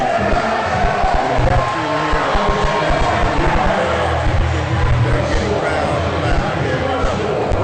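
A packed crowd at a high school basketball sectional game roars and cheers steadily throughout, loud and dense, with sneaker squeaks and court noise mixed in beneath the din.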